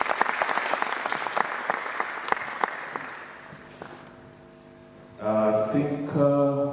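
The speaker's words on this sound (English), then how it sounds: "Clap for her." An audience at a school induction ceremony claps loudly and densely for a few seconds, the applause thinning and fading out before a loud sustained tonal sound takes over.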